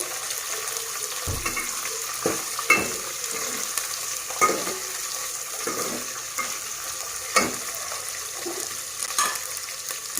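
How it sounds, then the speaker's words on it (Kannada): Green chilies and onions frying in a pan for mixed vegetable sambar, a steady sizzle with scattered scraping stirs and clinks, close and moderately loud with no talking. "ಹಸಿಮೆಣಸನ್ನ ಹಾಕ್ತಾ ಇದ್ದೀನಿ. ಇದನ್ನು ಚೆನ್ನಾಗಿ ಫ್ರೈ ಮಾಡ್ಕೋಬೇಕು."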